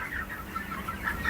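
Chickens on a poultry farm cluck in short, repeated bursts close by, several birds overlapping over a low background hum.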